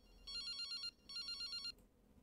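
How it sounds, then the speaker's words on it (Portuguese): A telephone in the game Something's Wrong With Sunny Day Jack rings in two quick electronic trilling bursts, bright and clear, then falls silent. "É meu telefone."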